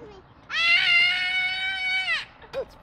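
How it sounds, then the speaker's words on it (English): A young girl gives one loud, sustained scream of about a second and a half, close and high-pitched, then a short vocal sound follows. "Let's say you can scream the loudest."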